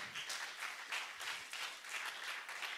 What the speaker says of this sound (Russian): Давайте подарим аплодисменты.